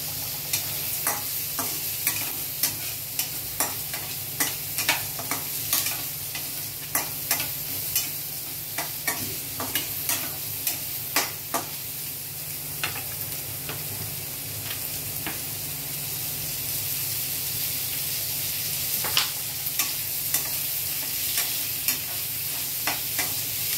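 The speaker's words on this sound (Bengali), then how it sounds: "এই যে ছোট এলাচ, লবঙ্গ আর দারচিনি গরম মশলা ফোড়ন দিয়ে" Whole cardamom, cloves and cinnamon sizzle steadily in hot oil for a chicken curry, with a continuous bright fry punctuated by sharp crackles and occasional stirring scrapes, close and alone without talk.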